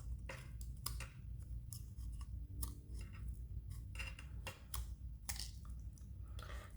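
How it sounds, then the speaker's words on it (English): Scissors snipping around the edge of a resin pendant, a steady run of close, crisp cuts with light clicks and crackles and no talking. "Just cut all the way around."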